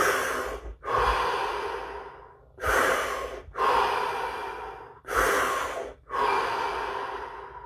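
Three deep breaths drawn during a guided stillness exercise, each a long, loud, close inhale followed by a slow exhale, in a steady rhythm with short pauses between them and no talking.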